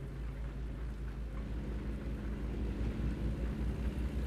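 Steady rainfall in the American Truck Simulator game, a dense low rumbling wash with soft patter, constant and moderately faint throughout with no talk.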